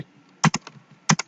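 Keys struck on a computer keyboard during a home-row ASDF JKL semicolon typing drill in an office technology class, two close pairs of sharp clicks separated by a short pause, near and alone with no talk.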